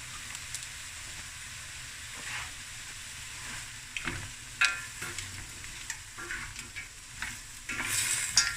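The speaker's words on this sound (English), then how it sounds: "Now we're going to let this stir fry for about 5 minutes, 6 minutes" Rice and mussels stir-fry in a pan with a soft, steady sizzle punctuated by repeated clinks and scrapes of stirring, growing busier toward the end.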